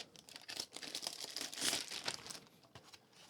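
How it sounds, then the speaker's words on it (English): Thin plastic sleeve crinkling and rustling close up as a Seagate Expansion hard drive enclosure is slid out of it, a few seconds of quick irregular crackles. "Take the enclosure out of this little plastic sleeve."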